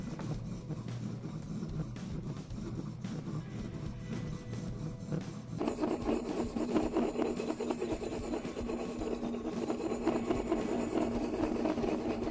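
A Morakniv Scandi-ground knife is drawn steadily across a coarse 28-20 diamond stone in a fillet clamp, making a continuous gritty rasp. The scraping grows louder and harsher about halfway through.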